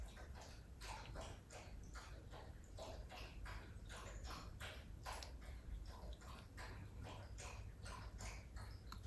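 A dog going up and down indoor stairs in the background, a steady run of soft rapid thuds and paw taps continuing throughout, fairly faint and somewhat distant, with no talk.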